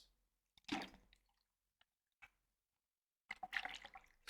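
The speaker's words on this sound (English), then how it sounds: "some water sounds too" Quiet, close-up ASMR liquid sounds: a few soft splashes and squishy drips separated by near silence, then a final burst of sloshing water.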